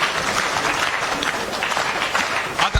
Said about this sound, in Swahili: Haya, makofi tena.